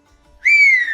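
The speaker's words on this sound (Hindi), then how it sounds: "पायल एक कुर्सी पर बंधी होती है और सास को देखते ही दोबारा सीटी बजाने लगती है।" A whistle blows as a sound effect in an animated Hindi moral story, one sustained shrill tone that starts abruptly and holds loud and close, slowly sliding down in pitch to the end.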